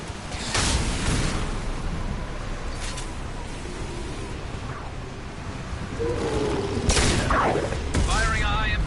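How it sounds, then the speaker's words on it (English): Heavy gunfire from Mass Effect 2 booms in several loud bursts amid a dense, rumbling combat din, with short electronic whines between shots; voices talk at times. "Firing a high impact shot."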